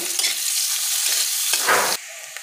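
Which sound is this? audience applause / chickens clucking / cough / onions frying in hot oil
onions frying in hot oil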